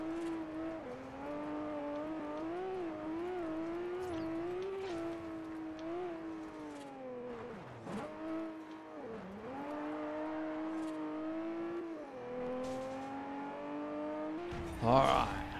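A car drifting in Forza Horizon, its engine droning steadily and rising and falling in pitch as it slides, with a couple of sharp dips and a brief scrub of tire noise near the end.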